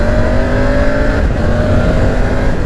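The three-cylinder engine of a 2020 Triumph Tiger 900 GT Pro motorcycle holds a steady, loud, throaty drone, heard up close and continuous throughout with no speech.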